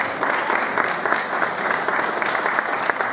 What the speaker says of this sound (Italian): Oggi è un piacere di avere qua accanto a me, che coglierei con un bel applauso, Roberta Di Camerino, la stilista.